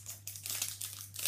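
Plastic toy packaging from an L.O.L. Surprise doll crinkles and crackles in short bursts close to the microphone, with a low steady hum underneath and no speech.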